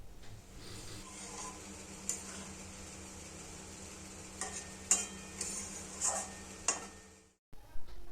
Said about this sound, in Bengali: একটু ওপর নিচ করে মাখিয়ে নেব।